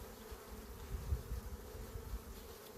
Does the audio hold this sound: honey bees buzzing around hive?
yes